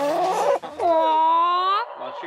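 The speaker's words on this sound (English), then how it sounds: "You're a nasty chicken." Backyard chickens pecking close by let out a rising, drawn-out squawking cluck lasting about a second, with people talking just before it.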